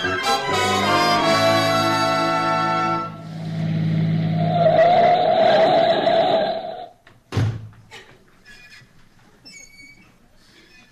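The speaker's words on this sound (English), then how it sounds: "We'll jump in the car and be there in a few minutes." A car driving off as a sound effect in a 1949 radio comedy show, a loud engine roar that builds and sustains for several seconds, then cuts off abruptly, followed by quieter sounds.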